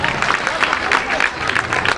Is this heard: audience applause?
yes